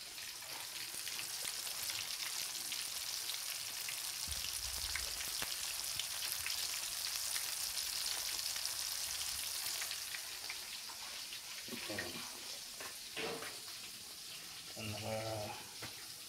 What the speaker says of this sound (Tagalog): luto naman tayo ng fried chicken